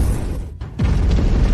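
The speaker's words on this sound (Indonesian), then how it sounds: "Batu meledak. Karena tidak bisa menampung bakatnya, langsung meledak di tempat." A stone explodes in a fantasy drama sound effect: a dense rushing roar cuts out for a beat, then a sudden burst returns as loud, sustained blast noise.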